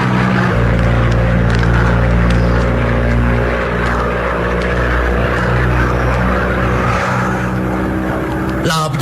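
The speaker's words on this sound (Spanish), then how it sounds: "La avioneta se cimbraba como si fuera a estallar en pedazos." A small propeller plane climbs through a storm in a radio drama, its engine a loud, steady droning roar that holds throughout before cutting off abruptly near the end.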